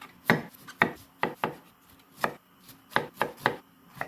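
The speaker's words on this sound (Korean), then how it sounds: "너무 크지 않게 이렇게 좀 잘게 잘라줍니다." A knife cuts broccoli florets into small pieces for broccoli kimchi, giving about nine crisp, close chopping knocks on a board in an irregular rhythm, with no talking.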